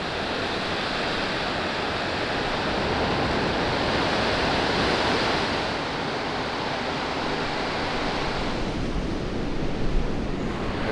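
Pacific Ocean waves wash onto a Southern California shore in a steady, broad roar of surf, with a slight swell midway and faint wind buffeting the microphone throughout.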